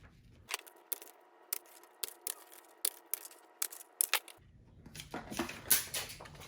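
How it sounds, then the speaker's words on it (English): Holes are punched into cardstock paper for an origami gift box: a string of sharp, separate clicks and snips at irregular intervals, close and crisp, followed by rustling paper handling. "make holes in paper along purple lines 1/2 inch from edge."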